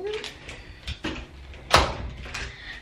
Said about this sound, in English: About to shut the door.